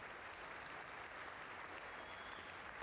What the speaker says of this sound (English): couple clapping